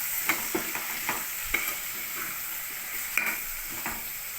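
Vegetable pieces frying in a pan with salt and turmeric for Kerala-style sambar, a soft continuous sizzle broken by several sharp stirring scrapes and taps of a spoon.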